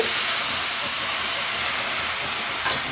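Milk hits grated coconut roasted in ghee in a hot pan for coconut laddu, giving a steady, loud, even hiss of sizzling that holds for the whole stretch with only a slight flare near the end.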